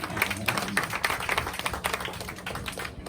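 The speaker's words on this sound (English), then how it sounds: "Very healthy applause." Audience clapping at a live roast battle comedy show, a short burst of moderately loud, scattered applause from a small crowd.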